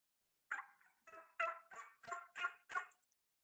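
Wild turkey in a Minnesota spring woodland yelping, a run of about seven raspy calls in an even rhythm, fairly close and clear against a silent background.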